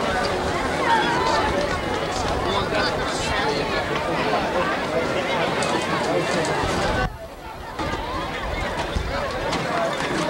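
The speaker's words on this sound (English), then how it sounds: "Big crowd for Stoughton today," Large crowd at a 1993 high school football game between Stoughton and Canton murmurs and babbles continuously in an outdoor stadium, a broad dense hubbub that briefly dips near the end before resuming; voices talk throughout.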